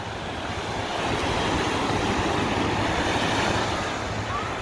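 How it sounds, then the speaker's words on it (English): Pacific Ocean surf breaking on a beach near San Clemente and Dana Point, heard as a loud, continuous wash of waves with no talk. "Listen to the ocean."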